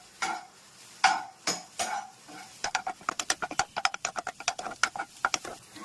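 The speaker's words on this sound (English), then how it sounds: "So now let's saute the mixture and mix it together." A paneer and corn mixture is being sautéed in a hot pan, heard as a quick series of spoon or spatula taps and scrapes against the pan, sparse at first and then fast and rhythmic.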